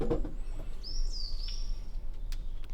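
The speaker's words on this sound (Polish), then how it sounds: "tu są tylko ptaki. Przeróżne dźwięki od samego rana" Faint birdsong in a forest: a thin rising whistle and scattered chirps over quiet background noise.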